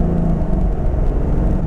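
A 2015 Corvette C7 Stingray with an 8-speed automatic drives on the road, a steady, loud low engine drone and road rumble heard from inside the car.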